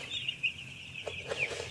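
Aged broiler chickens in a heated poultry house give a few soft, scattered clucks and brief calls, faint and fairly close, over a steady low hum.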